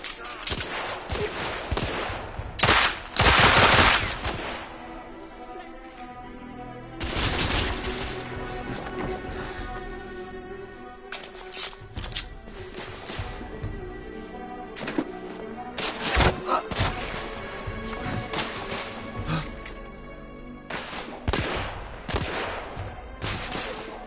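Gunfire from the video game The Order: 1886 comes in repeated loud volleys and single shots between quieter stretches, with a few heavy thuds and impacts. Faint voices and game ambience sit underneath.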